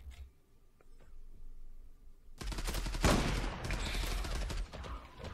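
Rapid automatic gunfire in the Zula online shooter, a dense loud burst of shots that erupts suddenly after a quiet stretch and keeps going for a few seconds.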